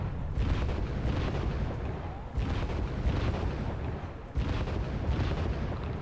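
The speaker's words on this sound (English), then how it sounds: "mortar's coming out" Mortar lobbing high-explosive shells in a tank battle game: deep, rumbling booms and heavy low blasts roll on continuously, with two brief drop-offs between salvos, loud and close throughout.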